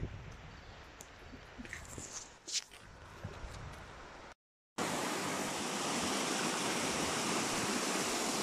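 Al Hada waterfall roaring as a steady, loud broadband rush, first heard farther off beneath footsteps and small knocks, then up close and even after a brief cut.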